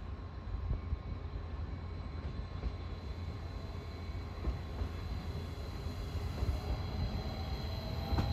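Regional RB 49 train departing Gießen station toward Hanau, a steady rumbling roll of wheels and railcars close by with faint squeals, continuous and without speech.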